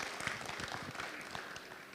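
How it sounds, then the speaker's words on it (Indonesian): Audience applause for single mothers at a women's forum event, a steady wash of clapping that holds for the full two seconds at moderate, fairly distant level. "Boleh kasih tepuk tangan buat para ibu-ibu"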